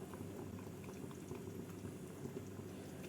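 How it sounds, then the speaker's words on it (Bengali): Curry gravy for mutton malai kofta boils in a pot, a soft, steady bubbling and low rumbling simmer, fairly quiet and alone. "ঝোলটা ভালোভাবে ফুটে উঠেছে"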